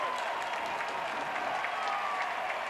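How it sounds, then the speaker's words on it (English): A stadium crowd at a Sacramento Republic FC versus Las Vegas Lights FC soccer match applauds and murmurs steadily, a dense, fairly distant wash of clapping under faint commentary. "the crowd here loves it"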